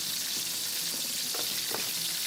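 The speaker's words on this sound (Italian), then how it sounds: "Unisco lardo e pancetta e faccio rosolare per bene." Lard and pancetta browning in hot oil flavored with basil sprigs in a saucepan give a steady, soft, close sizzle and hiss, with a few faint stirring touches and no voices.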